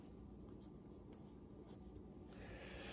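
Pencil drawing a cartoon outline on paper, close and quiet, with soft scratchy strokes of varying length in an uneven rhythm.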